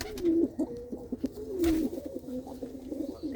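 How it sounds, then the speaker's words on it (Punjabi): A female pigeon coos close by in soft, repeated rolling calls, each ending in a short warble. "ਚਟੀਆਂ ਅੱਖਾਂ ਦੀ ਕਬੂਤਰੀ ਆ ਇਹ"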